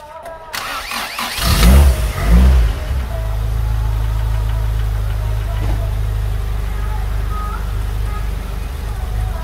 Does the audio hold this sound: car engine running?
yes